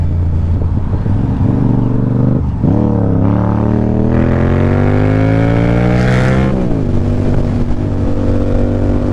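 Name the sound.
Yamaha R7 motorcycle riding at full throttle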